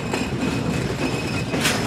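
Rail noise at Faridpur railway station near a freight train, a dense steady rumble with a faint metallic whine on top and a brief brighter hiss near the end, loud and continuous with no voices.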